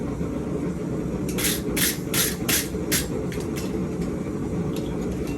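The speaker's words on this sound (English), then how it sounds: "I'm basically just scrubbing that stuff off so you have something smooth" A wire brush scrubs flaky forge scale off hot forged metal in a series of harsh, hissing strokes, several quick passes close by over a low background rumble.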